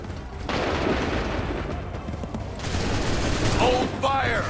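Musket volley gunfire in the Assassin's Creed III video game: rolling crackling bursts of massed shots, one around the middle and another toward the end, with shouted orders.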